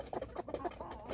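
A brooding mother hen gives a quick run of soft, close clucks, several short low notes in a rhythmic series.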